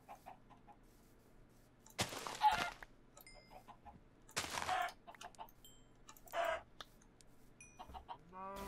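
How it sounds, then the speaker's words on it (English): Chickens clucking in the video game Minecraft, a few short bursts of clucks and squawks spaced apart over a quiet background hum. "Oh, hello chickens."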